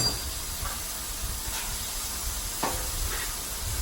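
Steaks sizzle on a Blackstone flat-top griddle, a continuous close frying hiss broken by a few soft scraping clicks as the meat is turned.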